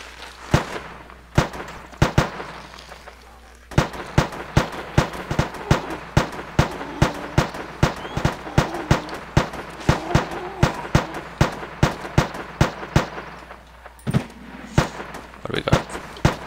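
Sustained gunfire rattles through a zombie survival game, dozens of sharp shots in uneven bursts, some quick runs and some pauses, loud and near over a low ambient hum.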